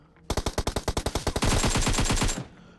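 Automatic weapon fire in the mobile battle-royale game PUBG Mobile: a loud close burst of about ten evenly spaced shots that merges into a rapid continuous rattle, then cuts off abruptly.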